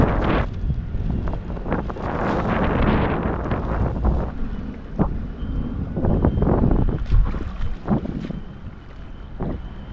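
Wind buffets the microphone in gusty, rumbling bursts outdoors while fishing from a waterside channel, loud throughout with no talking.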